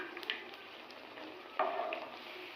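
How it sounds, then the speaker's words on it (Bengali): Malpua batter frying in hot oil in a kadai, a steady soft sizzle with a brief louder burst of crackling partway through, close and alone with no talk. "এইভাবে আমি প্রতিটা মালপোয়াকে সুন্দর করে ভেজে নেব।"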